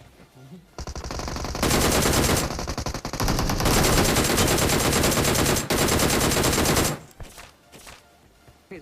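Heavy automatic gunfire from a video game battle, a dense, loud burst of rapid shots that holds for several seconds with a short break midway, then drops off sharply near the end.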